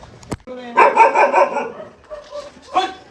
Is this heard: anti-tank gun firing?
no